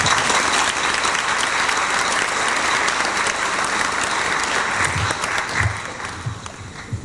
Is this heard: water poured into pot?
no